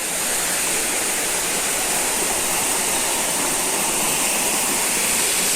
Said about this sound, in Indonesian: Ini sungai.